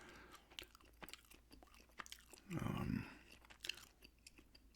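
Gum chewing sits close and soft, with wet clicks and smacks scattered throughout and a brief louder mouth noise near the middle.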